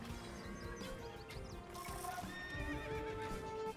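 Horses neigh and whinny repeatedly over a busy clatter of hooves during a siege battle in Age of Empires 2 Definitive Edition, with mechanical ratcheting and game effects layered throughout.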